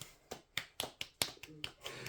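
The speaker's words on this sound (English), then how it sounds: "Golf clap." A single person gives a soft, sparse golf clap: about eight light, evenly spaced claps, close and quiet, with a little breathing between them.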